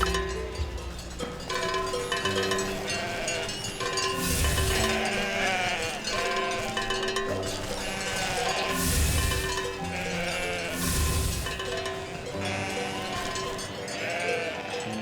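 Sheep bleat repeatedly in the video game Wytchwood, several overlapping calls rising over a steady droning musical backdrop, moderately loud and continuous across the scene.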